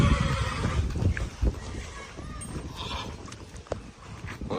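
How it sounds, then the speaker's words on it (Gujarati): A horse whinnies amid outdoor farm noise, with brief hoof-like knocks and faint voices in the background; the neigh is moderately close and stands out against steady low rumble. "જો પાછો ઘોડો દેખાડવાનો છે તો ફરી દેવાભાઈની દેવરાજ."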